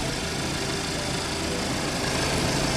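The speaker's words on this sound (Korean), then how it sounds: "엔진 쪽이고요. 엔진 소리 아주 정숙합니다." A quiet, smooth idle from a Porsche Macan gasoline engine, heard with the hood open, hums evenly throughout, steady and close without revving.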